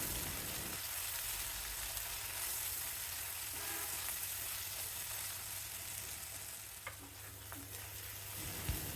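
Crushed shallots and garlic sautéing in oil for a village-style puli kulambu, a soft, constant sizzle heard close and quiet, with a few faint stirring clicks near the end and no voices.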